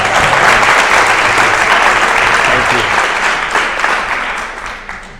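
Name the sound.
applause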